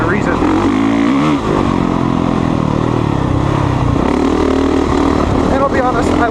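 A Honda CRF450R dirt bike engine runs loud and close throughout, a steady, rough motor drone that shifts in pitch as the throttle rises and falls.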